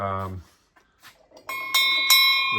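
A voice fades out, then after a short pause several bright bell tones ring out one after another, each struck clearly and left to sustain.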